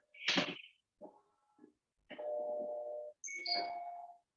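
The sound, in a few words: notification sound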